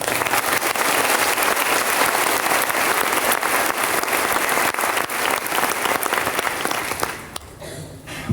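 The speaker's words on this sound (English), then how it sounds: "Could we take a moment to give them all a round of applause?" A high school graduation audience applauds at length, a dense, steady wash of many hands clapping that fills the hall before tapering off near the end.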